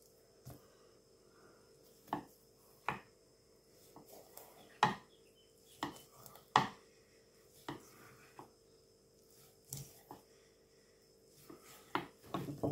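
A sharp knife chops fresh mullet on a board for Samoan cooking, giving a series of crisp, separate, irregularly spaced thuds and clacks up close, with no talking.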